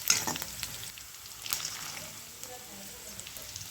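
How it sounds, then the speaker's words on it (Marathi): Green chilies sautéing in hot oil, a soft crackling sizzle with a couple of louder spits near the start and midway, faint and steady for a few seconds. "मिरच्या छान परतवून घ्यायचं आहे"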